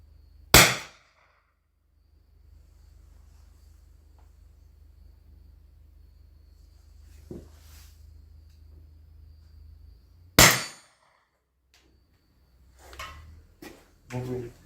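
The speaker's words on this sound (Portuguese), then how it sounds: "Vamos atirar no bonequinho de ferro lá." Two sharp, loud pops from an Armex .50 non-lethal home defense pistol fired at an iron target, spaced about ten seconds apart over a quiet outdoor background, followed by a few short bursts of talk.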